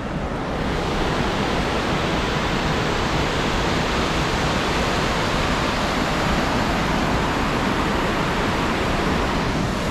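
A waterfall in Iceland roars as a dense, constant rush of falling water, loud and unbroken throughout, with a hint of wind noise.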